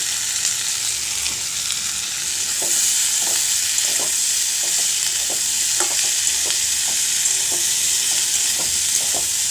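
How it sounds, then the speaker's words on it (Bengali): Steady, loud sizzle of jackfruit seeds, boiled potatoes and fried onions frying in a wok, with a spatula clinking against the metal every second or so as they are stirred. "কাঁঠাল দানা আলু সিদ্ধগুলো পেঁয়াজ ভাজা কমপ্লিট হয়ে গিয়েছে, দিয়ে দিলাম কড়াতে"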